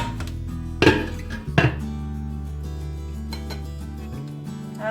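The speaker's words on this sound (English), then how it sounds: "Put the lid on." A lid set onto a cooking pot holding a crab and prawn coconut stew, giving two quick metallic clanks close by, followed by a steady simmering hum with no talk.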